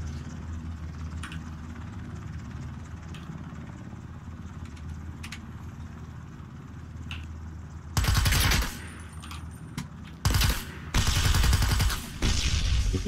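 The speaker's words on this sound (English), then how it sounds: "He's having shots at me at the moment." Gunshots in the battle royale game Ring of Elysium over a low engine-like rumble: some faint distant reports, then loud, close bursts of rapid automatic fire separated by short pauses.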